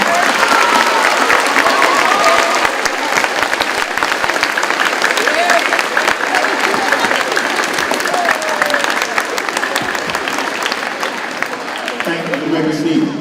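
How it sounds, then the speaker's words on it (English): Loud, continuous applause from an audience at a Bluegrass Veterans Day ceremony, dense clapping sustained for over twelve seconds as veterans stand to be honored, with faint voices mixed beneath it. "give him a round of applause."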